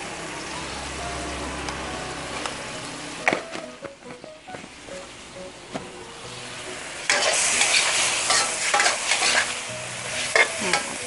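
Red curry paste with fish sauce, Maggi seasoning and sugar stir-fried in a pan for a Thai Isan bean dish: steady sizzling with repeated scraping and clattering of a spatula, growing louder and busier toward the end, no talking.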